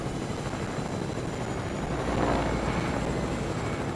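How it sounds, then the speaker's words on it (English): A small green helicopter in the Fortnite video game flies with a steady whirring rotor chop and engine drone, loud and continuous, swelling slightly midway with no talk over it. "Got my little green helicopter go."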